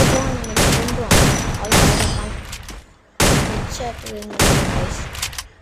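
Gunfire in the video game Free Fire MAX: several loud, close bursts of rapid shots in quick succession, with one brief gap before the firing resumes.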